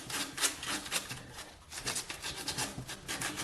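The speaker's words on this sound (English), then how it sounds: "So you take the 80 grit and just rub it on it." 80 grit sandpaper is rubbed by hand on a metal oil cooler adaptor from a 4.6L engine, making quick back-and-forth rasping strokes that sound close and gritty.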